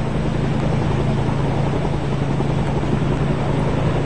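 Helicopter carrying ten freed Indonesian hostages from Sulu to Zamboanga, a constant loud rotor-and-engine drone with a deep low hum, steady and unbroken with no voices.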